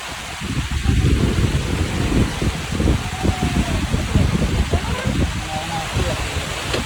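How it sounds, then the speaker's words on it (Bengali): Hard rain falling beside a river, a loud rushing wash of water and gusts, with people talking over it. "কি বৃষ্টি এসছে কি জোরে"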